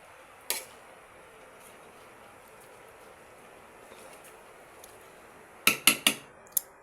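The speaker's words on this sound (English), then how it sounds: "Give it a gentle stir." A utensil stirring Afang soup in a pot, with a faint scrape early on, then a quick cluster of sharp metallic clinks near the end over a quiet background.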